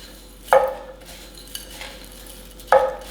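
A spoon stirs crisp topping made with Honey Bunches of Oats in a bowl, giving two distinct scraping, clattering strokes a couple of seconds apart over a low steady background, with no voices.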